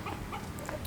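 Chickens and a rooster in a farm pen scattered with straw give a few brief, quiet clucks and calls over a low, steady background.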